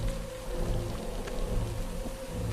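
Rain in a film scene, falling steadily on surfaces with dense pattering and low rumbling swells underneath, moderately quiet and continuous with no voices.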